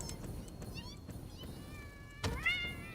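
Poison kitties in a video game let out a series of rising, chirpy meows, some soft and overlapping, ending with a louder, clearer meow near the finish.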